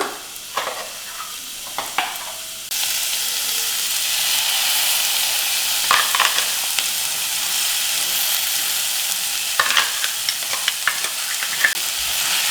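Ground spice paste for spinach pulao hits a hot pan with a sudden loud, steady sizzle that starts a few seconds in and carries on, with occasional scrapes and stirring clatter over it and no voices.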